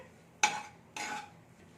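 Spoon stirring spices with egg paratha filling in a pan, two quick scraping strokes against the metal with a short pause between them, fairly quiet and close.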